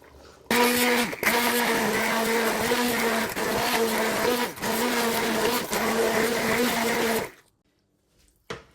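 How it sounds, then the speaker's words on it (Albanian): A blender whirs loudly and steadily for several seconds blending cooked plums and apples, its motor pitch dipping briefly a few times, then cuts off into near silence. "Masi e blume me blender, do e kallojmë një sik."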